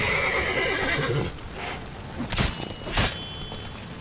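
A horse whinnies in the video game The Witcher 3, a loud neigh at the start followed by hoof clops and a couple of sharp impacts amid combat noise.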